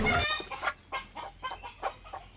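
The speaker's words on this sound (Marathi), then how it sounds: "कोंबड्या तर आपण इकडे बघू शकता" Hens and a rooster cluck in a run of short, close calls, with one louder squawk at the start, heard alone with no talk.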